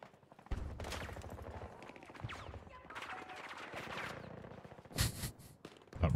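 A player's gun fires in a first-person shooter, bursts of rapid shots scattered through a busy match, with sharp, loud volleys clustering near the end amid game noise.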